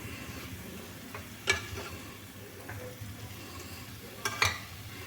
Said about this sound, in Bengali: এগুলো একসাথে নেড়ে নিয়ে সব ভালো করে একসাথে নেড়ে নিচ্ছি